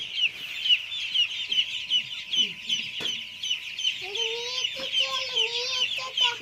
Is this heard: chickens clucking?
yes